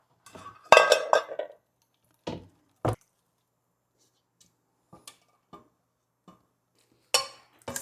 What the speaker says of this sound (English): let's put the potatoes in our dish